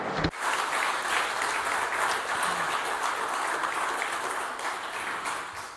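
A crowd claps continuously for award nominees at an awards ceremony, with dense, even applause filling the room from start to finish.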